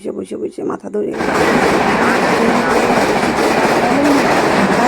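A train arrives at a station, its loud, steady rumble and rattle of carriages rising suddenly after a second and filling the rest of the clip, with someone speaking briefly at the start.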